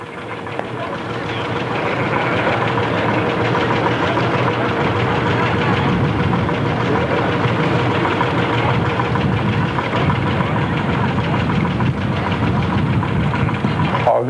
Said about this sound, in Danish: En Ferguson TEF. En af de små, grå dieselkøretøjer på 25 hester.